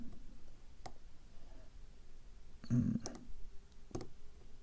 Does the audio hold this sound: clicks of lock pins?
yes